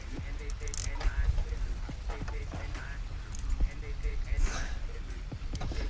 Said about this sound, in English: Alright, so I'm going to remove this bolt.